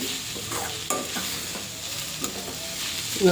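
Beetroot halwa cooking in ghee is stirred in a pan, with a steady frying hiss and repeated scraping strokes of the spoon.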